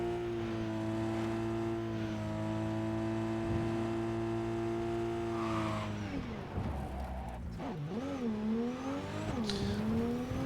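A car in Cyberpunk 2077 drives fast with a loud, steady engine drone that rises, then shifts as it slows and revs again, with tire noise and sweeping pitch changes in the second half.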